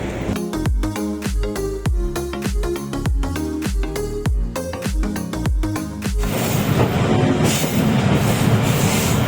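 The Karachi Express passenger train travels from Lahore toward Karachi with loud rhythmic clattering of wheels over rail joints, followed by a continuous roaring rumble of the carriages at speed.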